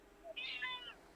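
A house cat gives a single clear, drawn-out meow, close and moderately soft against a quiet room.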